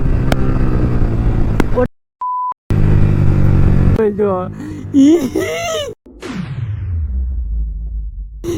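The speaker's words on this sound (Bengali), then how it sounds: "ফুল থ্রটেল হবে এবার।" A modified Yamaha R15 sports motorcycle revs hard at full throttle, loud harmonic engine roar broken by brief gaps and rising bursts, with a beep partway through and people talking over it.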